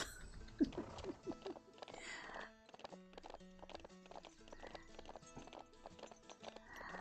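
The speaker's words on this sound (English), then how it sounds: "I love seeing the horses around town" Horses walk around a town in the farming video game Ranch of Rivershine, with repeated crisp hoof clip-clops in an uneven rhythm, a neigh near the start, and soft game music underneath.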